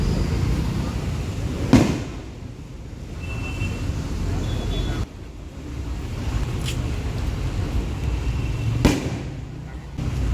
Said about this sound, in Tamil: ஒரே கிராக்கர்ஸ் சவுண்டு இருக்குது, வான வேடிக்கையாக இருக்குது.